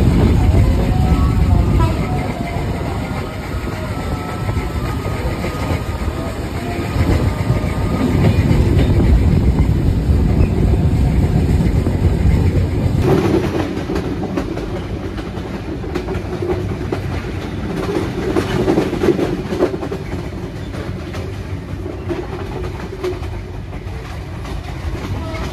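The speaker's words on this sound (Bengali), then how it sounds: "জয়দেবপুরে মিনিট 2 যাত্রা বিরতি দেওয়ার পর আমাদের ট্রেনটি পরবর্তী গন্তব্যস্থল ঢাকা বিমানবন্দর রেলওয়ে স্টেশনের দিকে রওনা দিয়ে দেয়" The Dhumketu Express intercity train runs from Rajshahi toward Dhaka, a loud steady rumble with clickety-clack of wheels on track heard from inside the carriage, the tone shifting partway through as the ride continues.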